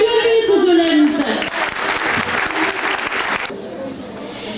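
Audience applause at a music school's teachers' and students' concert, a burst of clapping from a crowd that thins gradually, heard alongside a voice speaking over it.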